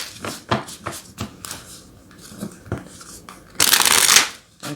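Tarot cards are shuffled in a series of quick riffling bursts and taps, ending in a longer, louder rush of cards, close up with no talking.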